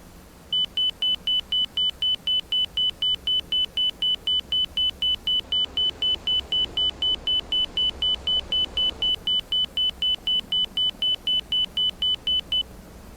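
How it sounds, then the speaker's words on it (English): Marker beacon tones in an A-29B flight simulator game: a steady run of about forty short, evenly spaced high-pitched beeps, loud and regular, over a low engine rumble with no talking. "The low frequency beeps corresponds to the outer beacon, while the higher frequency beeps occur when overflying the inner beacon."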